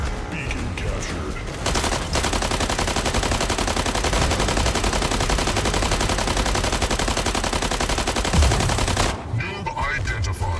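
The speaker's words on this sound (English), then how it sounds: "Incoming fire" Heavy incoming gunfire in the mech combat game Mech Arena, a dense, continuous roar of rapid shots and impacts that runs loud for about seven seconds and then stops, with faint game sounds around it.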